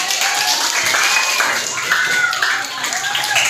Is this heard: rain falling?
no